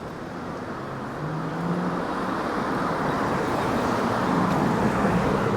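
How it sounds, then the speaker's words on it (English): Steady traffic rumbles along a busy city street that serves as a truck route to a seaport container terminal, with a dense, constant roar of engines and tyres that swells slightly as vehicles pass nearby. "this is the noisy street, one of the noisy streets, because this is a truck route down to the seaport container terminal"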